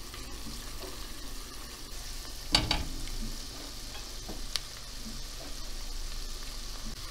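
Flour being roasted with onions in a pan, a faint continuous sizzle with a brief scrape of stirring partway through, quiet and close.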